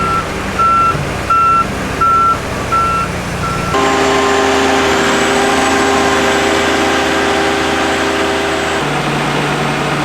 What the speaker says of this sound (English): Bringing the truck up with the beams.